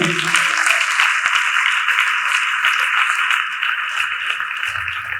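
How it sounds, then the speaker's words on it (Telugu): Church congregation clapping loudly together, a dense sustained applause that stays strong throughout and eases slightly toward the end, with faint voices underneath. "చప్పట్లు కొట్టండి గట్టిగా"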